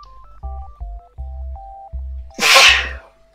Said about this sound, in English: Four sneezes in a row might be too much for anybody.